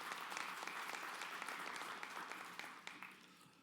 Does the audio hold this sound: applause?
yes